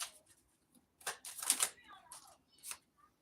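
Grandma's tarot deck being shuffled in bursts of quick riffling and flapping card sounds, close and fairly loud, separated by short quiet gaps.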